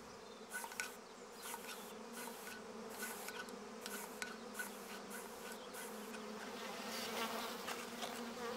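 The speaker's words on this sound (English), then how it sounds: "We've learned to control honeybees using smoke to calm them, subdue them, making them docile and less likely to sting." Honeybees buzz in a close, steady drone, with individual insects swelling and fading over the continuous hum and no talking.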